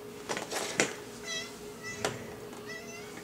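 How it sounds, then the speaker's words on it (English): A house cat meows several times in short, separate calls, faint and close against a quiet room hum. "my cat is wanting to be petted"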